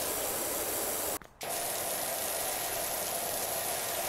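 In the PowerWash Simulator video game, a pressure washer with the yellow nozzle sprays in a steady loud hiss, cuts out briefly for a split second, then resumes and continues unbroken.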